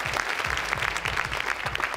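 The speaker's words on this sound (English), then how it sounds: "Let's give ourselves a round of applause." Clapping from a live-stream audience, a dense, steady burst of many hands that fills the whole moment with no voices on top.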